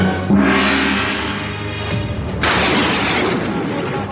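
A gunshot sound effect booms during a stage play, one sharp blast followed by a second broad burst of noise, loud and close in a hall setting.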